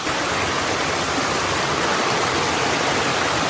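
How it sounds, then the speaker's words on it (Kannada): Rushing stream water after three days of continuous rain, a dense steady broadband wash with no breaks, loud and close throughout. "ನೋಡಿ ಇಲ್ಲಿಂದ ಹೇಗೆ ಹರಿತಾ ಇದೆ ನೀರು ಅಂತ"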